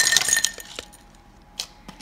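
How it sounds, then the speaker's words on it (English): Ice cubes dropped into a glass cup while making an iced matcha latte, a bright clattering clink at first, then a few lighter settling clinks, close and alone. "get your glass cup and fill it with your ice"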